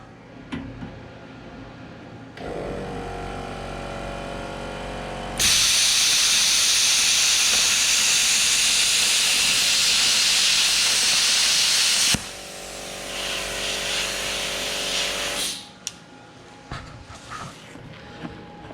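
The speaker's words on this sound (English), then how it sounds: "no problem at all cutting this 1/4 inch steel" Plasma cutter slicing quarter inch steel with its onboard compressor, a loud continuous roaring hiss lasting several seconds, preceded and followed by lower machine hum and ending with clicks as it shuts off.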